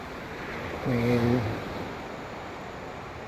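Sea waves wash against a shore in a steady broad hiss, with a short spoken word and a brief tonal sound partway through.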